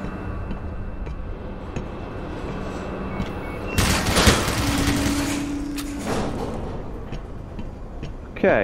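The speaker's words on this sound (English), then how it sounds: "So that's that turret activating. And shooting my poor little train." An automated turret in the shooter game Black Mesa opens fire on a train, a sudden loud burst of rapid shots over a low ambient hum, fading into scattered clanks and ticks.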